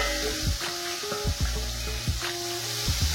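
Onions dropped into hot oil in a pan with potatoes and chilli for a mutton dish, sizzling steadily and close up, with a few stirring knocks and scrapes.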